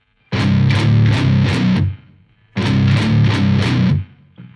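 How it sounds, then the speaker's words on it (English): A heavily distorted baritone guitar plays a short power chord riff twice, moving from first to third position and back to open, each phrase a few ringing chords followed by a brief pause. "power chord in the first position, over to the third, back to the first, and then to the open."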